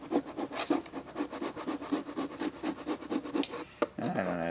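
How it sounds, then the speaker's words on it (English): Steel wool is scrubbed back and forth over the body of a 2006 Fleetwood Niagara pop-up camper to lift adhesive. The rapid, rhythmic rasping strokes are close and loud, with nobody talking. "Steel wool. See if that helps."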